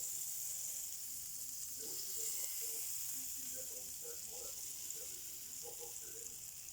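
Butter melts in a frying pan with a steady, close hiss and soft crackle, with faint background noise and no talk.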